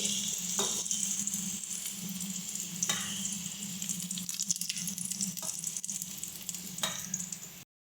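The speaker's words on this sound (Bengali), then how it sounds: "আলু আমাদের সুন্দর মতন ভাজা হয়ে গেছে" Potato pieces frying in hot oil for a prawn and pumpkin dish, a steady close sizzle with occasional stirring clicks, alone without talk, ending abruptly.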